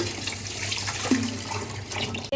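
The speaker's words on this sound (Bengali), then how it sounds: "চলেন এগুলো আগে ধুয়ে একটু ক্লিয়ার করে নিই" Tap water runs steadily at close range while fish and vegetables are rinsed in a kitchen sink, with a brief clunk near the end.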